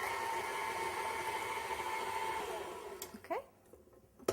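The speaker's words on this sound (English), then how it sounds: "turn the mixer on just to blend it" Electric mixer whirring steadily as it blends confectioner's sugar into a chocolate peanut butter egg filling, a close, continuous motor drone that cuts off near the end, followed by a few clicks and a brief tonal squeak.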